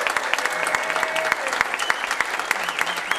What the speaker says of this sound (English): Come on, give a cheer for that today.